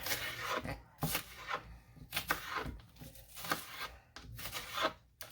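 A knife slices king fish steaks into strips, making about half a dozen close, rasping strokes through flesh against the board, each a short scraping burst.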